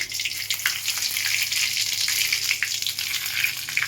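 Dried red chillies and panch phoron hit hot oil in a pan after a fried hilsa fish head, giving a loud, steady crackling sizzle that carries on without a break, close up and with no talking.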